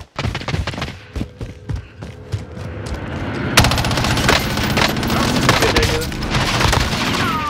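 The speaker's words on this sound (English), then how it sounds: "enemy fire! I'm getting shot at." Gunfire in a Warzone match starts as spaced single shots, then turns into a loud, continuous barrage of rapid bursts and booms, with a player talking intermittently over it.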